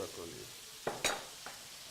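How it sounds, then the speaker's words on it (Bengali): Noodles and vegetables fry quietly in a pan, a soft steady sizzle broken by a few sharp scraping clicks of stirring, with no talking. "আমাদের এই নুডলসটা নিচে দিয়ে মচমচে একটা ক্রাফট হওয়ার জন্য একটু ভাজা হচ্ছে"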